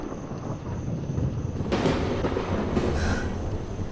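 Thunder from an approaching storm rolls in as a deep broadband rumble that swells midway and stays loud, with wind-like noise underneath.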